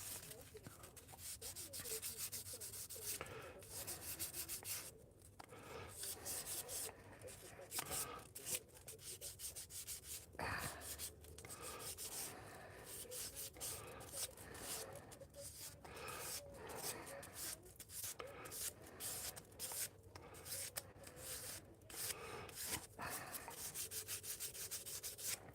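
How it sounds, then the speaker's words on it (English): Wood being sanded by hand, a steady close rasping rub repeating throughout with brief pauses, under occasional light background sounds. "I just basically want to get the whole thing sanded."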